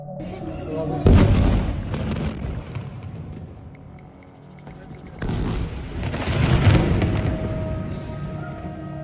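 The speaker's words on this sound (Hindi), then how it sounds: "में इजराइल का बम गिरता है," Two heavy, rumbling bomb blasts in Gaza, each swelling into a long roar of debris and noise before fading.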